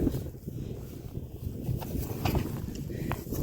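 Wind buffets the microphone with a steady low rumble and gusty broadband noise throughout.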